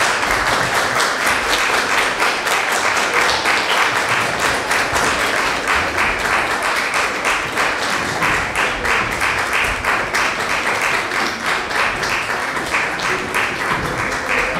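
An audience claps for a children's choir at a children's concert, dense and sustained applause that stays loud and even throughout.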